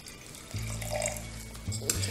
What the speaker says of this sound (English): We're gonna add a little bit more water this time